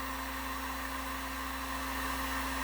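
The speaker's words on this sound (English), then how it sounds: "I'm probably 4 inches above the heat gun right now." A heat gun warms a fishing jig for powder painting, giving a steady, close electric whine and blowing drone with a constant low hum throughout and no speech.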